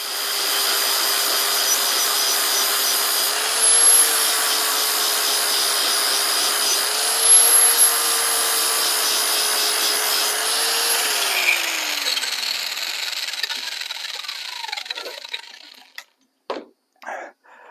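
Steady, loud whine of a power sander working 80-grit abrasive against steel throwing axe heads, a continuous grinding hiss with slight pitch shifts, then ending in a few short bursts before stopping.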